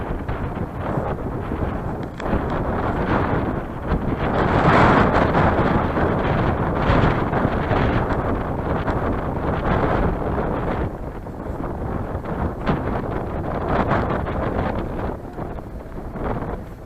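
Strong wind buffets the microphone in a steady, roaring rush with gusts rising and falling, outdoors by a river and lake, without any talk.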